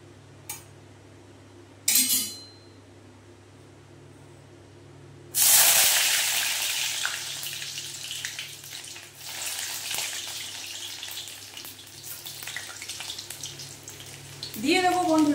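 Chopped garlic hits hot oil in a kadai with a sudden loud hiss, settling into a steady crackling fry, preceded by a couple of brief clatters against a quiet kitchen background.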